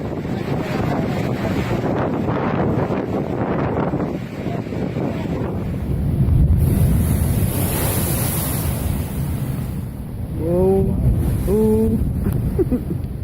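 Heavy surf from huge storm waves roars and churns continuously with gusty wind buffeting the microphone, and a voice briefly breaks through near the end.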